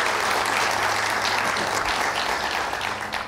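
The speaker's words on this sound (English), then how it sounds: "Round of applause." Studio audience at a live show breaks into loud, dense applause, a sustained wall of clapping that tapers slightly toward the end.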